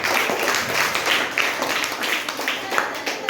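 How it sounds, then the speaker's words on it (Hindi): Schoolchildren clap together in a classroom during a lesson on reading clock time, a steady patter of many small hands running the whole moment, fairly close and loud. "ताली बजाओ एक बार"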